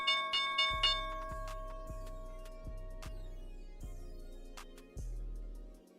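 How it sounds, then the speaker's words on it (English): The stock market opening bell rings in a rapid series of about half a dozen clear metallic strikes, each with a short decay, heard fairly faint and with no talk over it. "Here's the opening bell."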